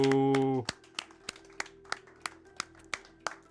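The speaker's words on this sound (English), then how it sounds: "Another round of applause." Scattered hand claps from an awards-show audience, about a dozen sharp separate claps at a slow irregular pace, coming right after a sustained musical chord cuts off.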